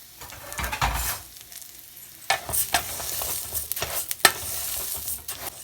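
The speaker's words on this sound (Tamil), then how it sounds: "அந்த கீயும் இந்த ரைஸும் நல்லா மிக்ஸ் ஆகிற மாதிரி நல்லா பண்ணிக்கோங்க" Rice being stirred into ghee in a pan, bursts of close scraping and rustling sizzle arriving in uneven strokes separated by quieter gaps.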